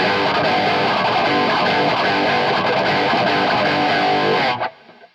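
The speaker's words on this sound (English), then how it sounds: "it really just pushes the front end of that amp and just really makes it sound almost like it's got that really cutting sort of distortion going on" Heavily distorted electric guitar through a Marshall SV20H amp, its front end driven hard by a boost pedal into a cutting, saturated tone; dense, loud and continuous, then cut off abruptly near the end.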